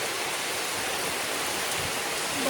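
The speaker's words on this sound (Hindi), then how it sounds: "बारिश बहुत तेज़ बारिश हो, एकदम मोटा मोटा बूंद वाला।" Heavy rain with big drops pours down in a dense, unbroken hiss, close and steady for the whole stretch with no voices.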